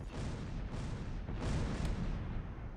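Mortar shells landing in Close Combat IV, a dense rumbling roar of distant impacts and booms blending into continuous low thunder with a few sharper bursts, no voices.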